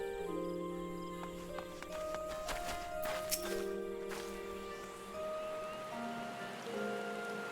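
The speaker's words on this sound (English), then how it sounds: "Oh dear, it's raining." Steady rain falling in the video game Final Fantasy XIV, a continuous even patter under layered game music tones, with no talk.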